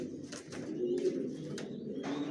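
Racer pigeons, silver racers, coo softly inside a loft: low, throaty, continuous cooing at close range, with a few faint higher flutters and taps in between.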